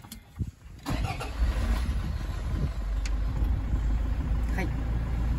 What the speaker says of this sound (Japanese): はい、ではエンジンかけていきます。